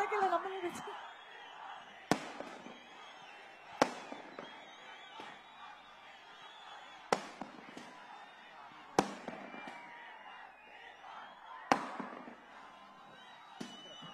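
Firecrackers burst at a film trailer launch event for a Kannada movie, sharp loud cracks arriving at irregular intervals roughly every two seconds, with someone talking over a noisy crowd between them.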